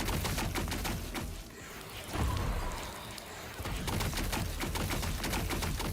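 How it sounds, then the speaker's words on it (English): Dense, continuous rapid-fire bursts of machine gun fire from a played game video, loud and close with almost no pause. "machine gun."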